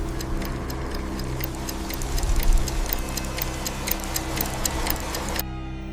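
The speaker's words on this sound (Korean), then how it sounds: "처음에는 어디선가 시계 소리가 나는 줄 알았지만 소리는 그들의 몸에서 나고 있었다" Steady clock ticking clicks along in an even rhythm for several seconds over a low droning background, then cuts off near the end.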